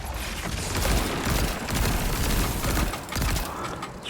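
A pulse rifle in Destiny 2 fires continuous rapid bursts of ammunition, loud and close, with a brief lull near the end before the shooting picks up again.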